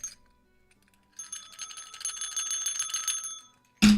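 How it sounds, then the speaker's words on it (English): A bicycle-style bell rings in a quick trill of bright metallic dings lasting a couple of seconds, fairly close, followed by a short loud burst at the end. "You gave me a bell."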